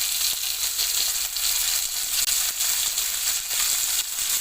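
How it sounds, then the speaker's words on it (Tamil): Onion and tomato sauté in oil in a pan, giving a continuous bright sizzle with faint stirring scrapes, close and steady with no talking. "தக்காளி நல்லா வதக்கிக்கோங்க"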